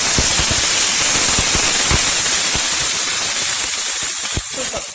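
Water hitting a hot pan for podi upma makes a loud, steady steam hiss and sizzle up close, with scattered crackles, lasting the whole moment before easing slightly at the end.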